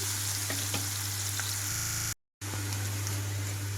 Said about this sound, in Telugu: ఇందులోకి కట్ చేసి పెట్టుకున్న ఉల్లిపాయలు అలాగే పచ్చిమిరపకాయలు వేస్తున్నాను ఇక్కడ ఉల్లిపాయలు కంప్లీట్గా వేగిపోయే వరకు మీడియం ఫ్లేమ్లో ఉంచుతున్నాను స్టవ్ని